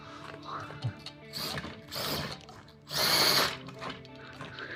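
Small servos whirring and straining on a 6x6 mini RC trail truck crawling over rough ground, with busy mechanical clicks and gear noise and a louder grinding surge near the end.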